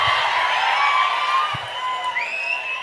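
A live audience at a mimicry comedy show breaks into clapping and cheering, a continuous wash of applause with a few whoops rising above it.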